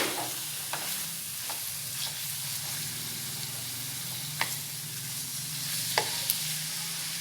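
Ground beef for tacos fries in a pan, a steady broad sizzle running throughout with a few sharp clinks and scrapes of stirring scattered on top; no one speaks.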